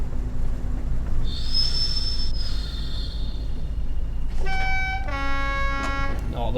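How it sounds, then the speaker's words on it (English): A Class 20 diesel locomotive horn sounds twice over steady engine and rail noise: first a long high tone, then after a pause a brighter two-note blast with sharp harmonics near the end. "Oh, the horn is a bliss. The horn is really lovely."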